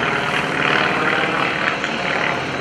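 An RV aircraft engine droning steadily during a half Cuban 8 aerobatic turnaround at an airshow, a loud continuous propeller buzz with slight swells in pitch, heard alone.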